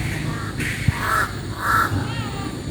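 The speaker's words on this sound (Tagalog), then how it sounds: "Yan po yung mga crow dito." Crows cawing in a park at Atimonan Zigzag along a zigzag road in Quezon, several harsh calls spaced across the moment over steady outdoor ambience, with faint talk in the background.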